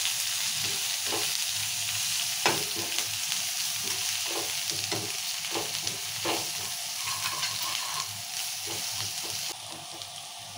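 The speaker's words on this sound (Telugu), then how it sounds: "కళ్యామాకు కొత్తిమీర కూడా ఇట్లా నూనెలు వేసుకోవాలి" Curry leaves and coriander sizzle and spit in hot oil for okra curry, a steady broadband fry with repeated stirring scrapes and small crackles, close and fairly loud throughout, no voices.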